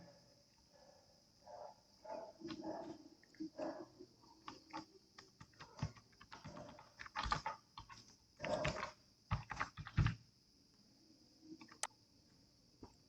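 A password is typed on a computer keyboard while registering on an income tax portal: irregular bursts of close, crisp key clicks, some quick runs and some single taps, with no talking.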